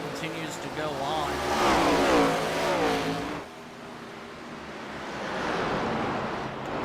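Short track race cars at Oswego Speedway roar past with rising and falling revs, a loud surge that drops off midway before building again, with faint talk underneath.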